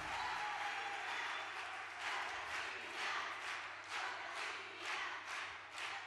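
Audience applause for a band at a national women's music gathering, a steady, fairly quiet wash of clapping from a crowd that swells in waves throughout.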